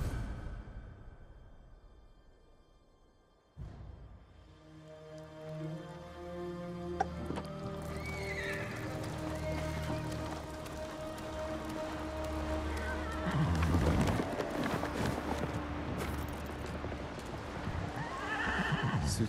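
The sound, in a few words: horse Kaze whinnying and hooves, from video game Ghost of Tsushima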